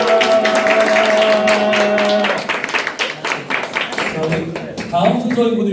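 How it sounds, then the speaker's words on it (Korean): A church congregation bursts into loud, dense applause, sustained and steady before breaking into scattered, uneven clapping, while a speaker's voice carries over the crowd. "박수 주세요."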